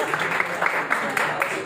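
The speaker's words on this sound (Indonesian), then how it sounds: "Tepuk tangan." A church congregation applauds, a dense patter of many hands clapping at moderate distance for a couple of seconds with a voice underneath.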